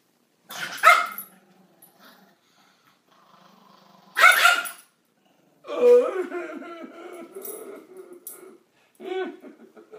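A dog barks a few times close by with pauses between, then gives a growling, whiny string of yips and grumbles.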